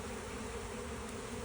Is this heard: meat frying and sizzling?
no